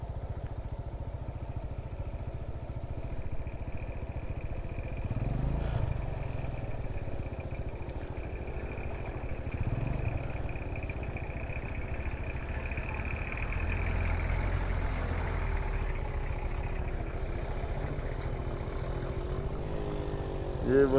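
A 125 motorcycle labors up a rough mountain road toward Saif ul Malook lake, its engine droning low and steady with occasional revving strain, while voices talk over it.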